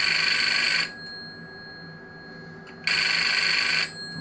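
A desk telephone rings in two loud electronic bursts separated by a pause of about two seconds, close and clear with no talking.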